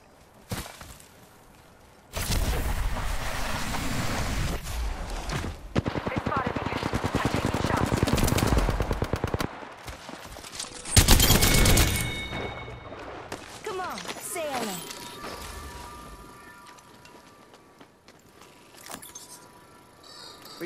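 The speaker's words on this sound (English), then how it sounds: "Getting shot at." Automatic weapon fire in the battle royale game Apex Legends, loud sustained bursts of rapid shots for several seconds, then a sharp burst followed by quieter game effects and fading activity.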